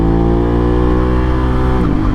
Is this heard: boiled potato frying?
no